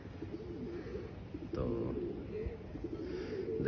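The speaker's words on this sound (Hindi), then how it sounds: "बाकी जो हमारे कबूतर हैं वो अभी बैठे हैं" Pigeons cooing softly in a loft while their companions have flown off, low repeated coos under steady background noise and a brief spoken word.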